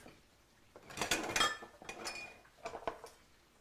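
Kitchen knives clink and clatter against each other as a serrated knife is picked out, a few quiet, bright metallic chinks in short bursts.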